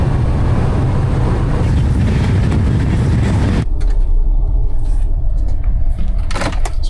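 Car driving along a desert road, a loud steady road and wind roar that suddenly drops to a quieter engine hum with faint rattles.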